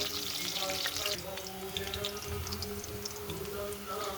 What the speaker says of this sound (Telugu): అల్లం కొంచెం పచ్చివాసన పోయే వరకు ఫ్రై చేసుకుంటాను.